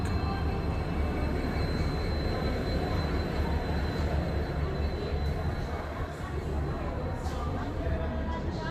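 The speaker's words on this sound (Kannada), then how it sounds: "ಡೀಸೆಲ್ ಲೋಕೋ ಹುಬ್ಬಳ್ಳಿ ಕುಷ್ಟಗಿ ಪ್ಯಾಸೆಂಜರ್ ಟ್ರೈನ್ನ ಈಗ ತಗೊಂಬರ್ತಿದ್ದಾರೆ ಪ್ಲ್ಯಾಟ್ಫಾರಮ್ ನಂಬರ್ 4ಕ್ಕೆ" A diesel locomotive hauls the Hubballi–Kushtagi passenger train toward platform 4 at Hubballi, a steady heavy rumble with faint squeals, while a murmur of voices runs underneath.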